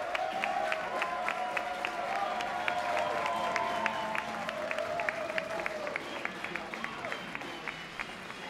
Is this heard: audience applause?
yes